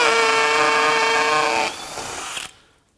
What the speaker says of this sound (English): we're gonna see how easy it will pull this in and drill the hole